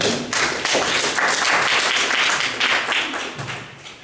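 Audience at the preTEXTY 2015 festival in Świdnica, a Battle of 7 Words event, breaking into dense, sustained applause, a loud wash of many hands clapping that fades slightly toward the end.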